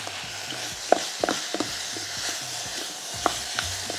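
Vegetables being stir-fried in an Itaki Shabuki pot for yaki udon: a soft, steady sizzle carries under scattered clinks and scrapes of a utensil against the pot, with no voices.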